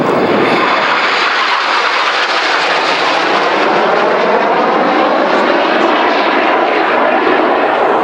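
Red Arrows BAE Hawk jets trailing red smoke at the Malta airshow give off a loud, steady, roaring jet engine wash that fills the whole clip, with no clear breaks.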